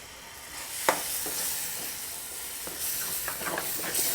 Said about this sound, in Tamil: நம்ம அரைச்சி வச்ச தக்காளி இது கூட சேர்த்துக்கலாம்.